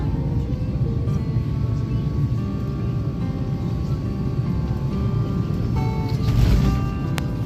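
A steady, loud cabin roar fills the inside of a Qatar Airways airliner as it descends to land at Dallas, with no speech heard.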